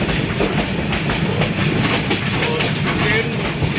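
An express train from Dhaka toward Sarishabari, Jamalpur, heard up close from on board while it runs at high speed. There is a loud, continuous rumble with rapid, rhythmic clickety-clack of the wheels.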